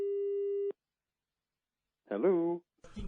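A telephone busy signal tone sounds briefly on a community radio call-in line after a dropped caller, followed by silence and then a short burst of a man's speech.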